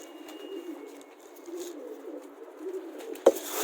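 Pigeons coo softly in a low, rolling murmur that comes and goes, fairly close, with a sharp knock near the end.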